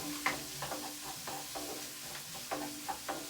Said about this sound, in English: I am literally going to throw in my diced king prawns as well. Again, these are just large king prawns chopped into 3 pieces